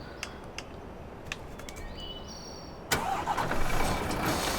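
A truck engine in Farming Simulator 15 cranks and catches after a couple of seconds of quiet clicks and chirps, then settles into a loud, steady idle.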